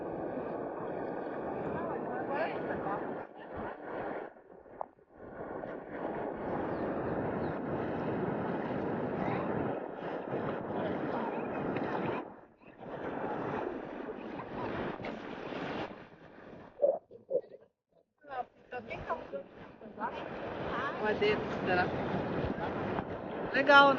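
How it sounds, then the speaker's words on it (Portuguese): Strong wind gusts over open water off Guaratuba, where people paddle stand-up boards, roaring in broad buffeting bursts that drop out briefly and surge back, loud and close on the microphone, with voices heard at times. "Olha que vento forte"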